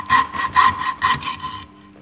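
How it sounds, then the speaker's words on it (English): Coping saw cutting wood held in a vise, four close rhythmic rasping strokes back and forth, then stopping. "then we're going to saw down"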